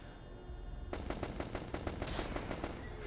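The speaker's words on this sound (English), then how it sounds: "So point forward, just point at one of those ceiling things up there and just let a mag go." An SMG in a video game emptying a full magazine after a quiet start, a rapid, steady burst of close, loud shots that runs to the end with no pauses.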